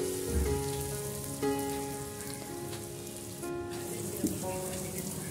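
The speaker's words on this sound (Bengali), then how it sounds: "তো পেঁয়াজ ভাজতে থাক" Onions fry in a pan for a chicken and potato curry, giving a steady, moderate hiss and crackle throughout, with faint background tones and no talk.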